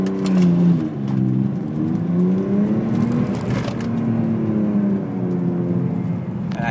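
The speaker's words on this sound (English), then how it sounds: "and I drop the clutch" A BMW E46 328Ci with a slipping clutch revs up and down as the clutch is dropped, its engine note rising and falling in close, loud, continuous sweeps.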